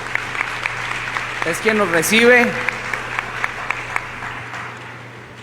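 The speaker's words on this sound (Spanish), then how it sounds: "Le brindamos un aplauso, por favor, aquí a Jesús" Council session attendees in Guadalupe applaud their host with a steady patter of clapping while a speaker's voice briefly talks over it, then the clapping thins and fades.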